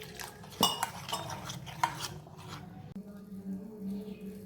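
A spoon stirs a rice flour and vegetable batter for puffed rice pakoras in a bowl, giving a couple of sharp clinks against the bowl over soft, continuous scraping and mixing.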